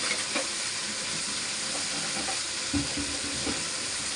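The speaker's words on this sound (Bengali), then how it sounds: "এই যে ব্লেন্ডার ধুয়ে যে পানিটা দিয়ে দিলাম।" Water from rinsing a blender is poured into a hot cooking pan while making a dish of taro stolons with dried fish, giving a steady, even sizzling hiss with a few soft bubbling pops and no talking.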